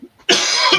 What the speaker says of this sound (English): he's just going to have a wee cough to himself